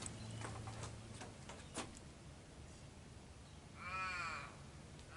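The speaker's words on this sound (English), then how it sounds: "Got a noisy crow." A crow caws once or twice, fairly close, over a steady outdoor background hiss in the Perth Hills bush, with a few faint clicks earlier.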